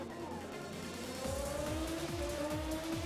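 A DTM race car in an Assetto Corsa replay, its engine note climbing through repeated upshifts as it accelerates, loud and steady with no talking.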